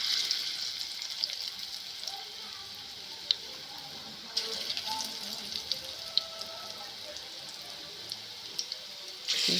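Pakoras fry in a pan of oil, a continuous bubbling sizzle at an even level with a few small crackles and taps.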